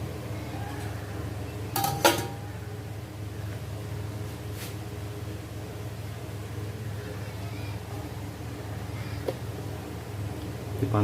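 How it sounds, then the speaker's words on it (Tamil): Pot of hot water being set on the lid of a veg dum biryani vessel in a kitchen: a couple of brief metallic clanks over a steady low hum, with a person talking. "இந்த தம் பிரியாணி மேலே சுடு தண்ணி பாத்திரம் வச்சு மூடி வச்சு"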